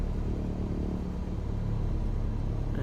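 Piston airplane engine in Microsoft Flight Simulator running at a steady low rumble as the throttle is eased up toward about 1,000 RPM, a continuous loud drone with no talking.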